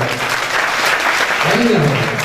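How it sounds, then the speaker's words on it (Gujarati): Audience at a Gujarati satsang applauding the mothers, a dense sustained burst of clapping from a crowd, loud and close, with a voice briefly audible over it. "એ માતાઓને તાળીઓથી વધાવો"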